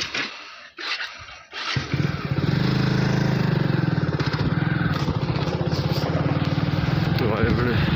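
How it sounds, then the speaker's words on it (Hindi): A motorcycle engine starts up after a couple of seconds of quiet and then runs at a steady, loud, close idle with a rough, buzzing throb. "भाई अपनो बाइक को चलाओ"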